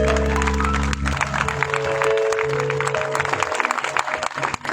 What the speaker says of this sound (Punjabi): Clap for the glory of God.